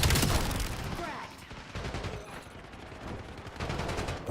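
Dense, continuous gunfire from the video game Call of Duty Black Ops 7, with rapid overlapping shots and bursts that stay loud throughout and swell again near the end.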